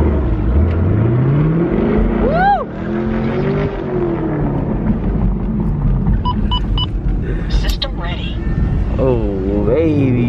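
A 500-horsepower Chevrolet Camaro 2SS accelerates hard on a test drive, its engine droning and climbing through rising revs with a deep rumble, heard from inside the car while people talk over it.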